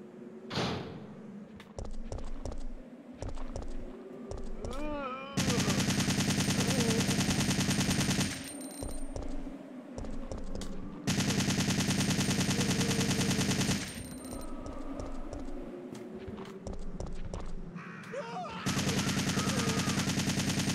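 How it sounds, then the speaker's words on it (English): Assault rifle fire in Resident Evil 3: Nemesis, long loud sustained automatic bursts repeated several times, separated by quieter stretches of footsteps, clicks and groaning game sounds. "Man, I love this assault rifle."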